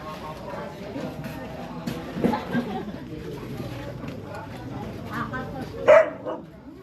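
A dog gives a single sharp bark near the end, set against ongoing conversation in Filipino and general room noise.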